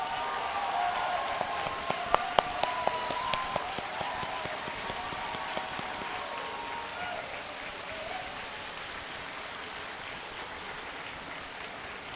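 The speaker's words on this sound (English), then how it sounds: "I would like to invite you to give a very, very warm round of applause to Steve Miller." Audience applause at a university commencement ceremony for the School of Information Systems, a soft, distant patter of many hands under a faint hum, fading slowly over several seconds.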